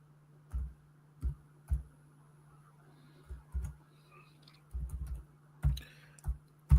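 Fingers tap out an email address on a laptop keyboard with something blocking the keys, giving soft, irregular clicks in short bursts with pauses, close and quiet over a faint steady hum.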